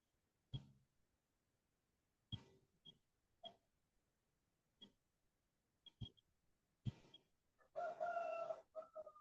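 A rooster crows faintly in the distance amid scattered clucks and short bird calls, the crow rising near the end of a quiet stretch.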